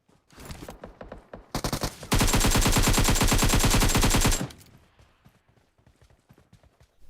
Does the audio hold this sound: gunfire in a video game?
yes